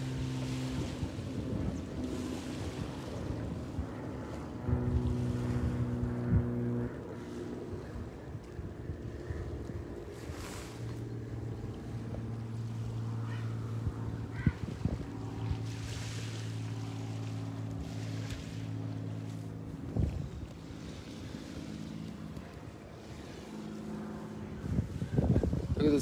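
Wind blowing across the Sea of Galilee as heard from aboard a boat, a steady broadband rush with low engine-like hum and water wash underneath, continuous and fairly loud with occasional gusts, no talk.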